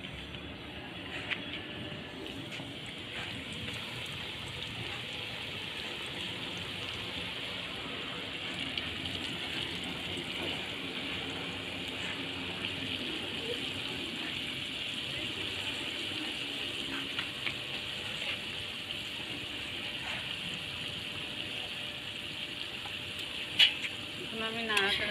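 Chicken pieces fry in hot oil for KFC-style fried chicken, giving a soft, continuous sizzling hiss with small crackles throughout, while a person talks over it.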